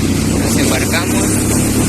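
A boat motor runs steadily and loudly throughout, a continuous engine drone on a water crossing, with a faint voice beneath it.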